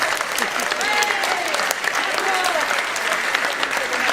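Steady, dense applause from an audience at a literary award ceremony for the Simone Veil Prize during a women writers' book fair at a French armed forces club, loud and continuous, with voices faintly mixed in.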